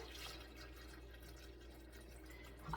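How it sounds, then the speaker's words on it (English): Water pours into a blender jar over leafy greens for a smoothie, heard as a faint trickle and drip that swells into a louder splash at the end. "But I'm going to put water in here"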